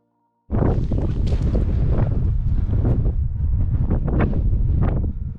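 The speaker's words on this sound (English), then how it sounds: "It's a bit windy and breezy." Strong wind buffets the microphone in a continuous, heavy roar with gusty surges, starting abruptly after a brief quiet moment and lasting throughout, on a walking route around Loch an Eoin.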